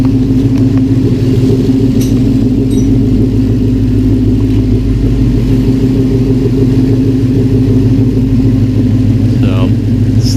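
A Coyote V8 swapped into a 2006 Mustang runs at a steady warm-up idle, a loud continuous low rumble with no revving, close by and uninterrupted, with only faint rustles over it.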